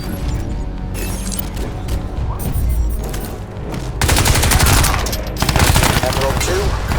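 Dense, continuous gunfire and crashing impacts from a fire-support barrage in the video game Crysis 2 Remastered, loud and sustained throughout, intensifying partway through with heavy overlapping bursts.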